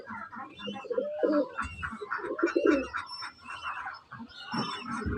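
Several large, plump pigeons coo in low, rolling bursts that repeat through the clip, close by, with background chatter and other bird calls mixed in.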